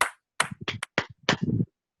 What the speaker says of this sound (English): On the count of 3, I want everyone to clap 3 times and cross your arms